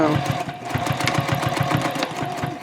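A sewing machine stitches the side seam of a tote bag at a 3.0 stitch length, a close, steady, rapid mechanical chatter that runs without pause.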